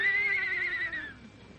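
A single horse whinny produced as a sound effect in a radio comedy, a long wavering high neigh that trails off and fades near the end, heard alone.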